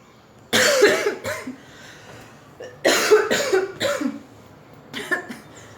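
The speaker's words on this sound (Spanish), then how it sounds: "Tengo que dejar de toser para poder grabar." Several bursts of harsh coughing, three clustered fits separated by pauses, close and loud with no speech between them.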